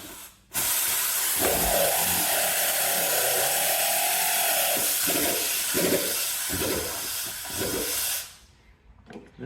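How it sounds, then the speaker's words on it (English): Air compressor in a workshop, a loud steady hiss of rushing air lasting most of several seconds, close and continuous with a few dull knocks beneath it, then cutting off abruptly. "Sorry about my air compressor."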